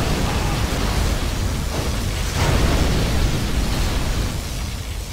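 A particle cannon fires in Command & Conquer Generals Zero Hour: a sustained, loud, roaring blast of broadband energy that holds steady for several seconds, swelling slightly midway before easing off.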